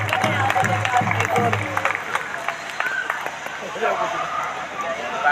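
A crowd at a Ramlila performance claps in dense, continuous applause for several seconds, with a voice and crowd noise mixed in, fading partway through before swelling again.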